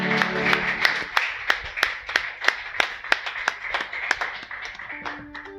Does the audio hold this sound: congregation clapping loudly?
yes